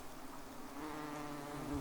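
Yellow jacket wasps buzz at their nest in a steady, close, continuous hum that swells slightly toward the end, with no talking.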